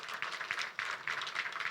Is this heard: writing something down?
no